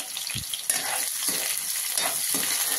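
Chopped onions sizzle steadily in hot oil, stirred with sharp scraping strokes at intervals, close and fairly loud with no talk.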